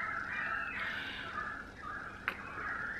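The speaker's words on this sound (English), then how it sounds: "And you hear the crows." Crows caw from a tree in a string of harsh, drawn-out calls, moderately distant and overlapping, with one sharp click-like sound partway through and no talking.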